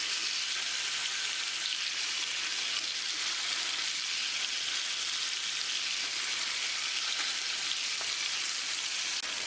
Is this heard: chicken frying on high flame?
yes